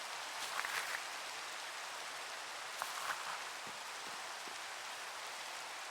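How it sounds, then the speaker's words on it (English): Steady rain falls in the Minecraft video game world, a constant even hiss of drops with a few faint crackling patters, alone and with no voices. "Seems to rain quite a bit here."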